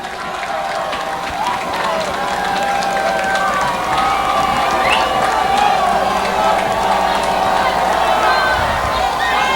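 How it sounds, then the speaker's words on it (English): At a Friday night high school football game between North Haven and Fairfield Prep, the home crowd grows louder on a third-and-three. Distant cheering and shouting swell steadily beneath a commentator's voice. "The North Haven crowd getting loud on this 3rd and 3."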